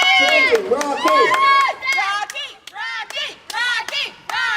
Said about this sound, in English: Everybody's cheering for Rocky.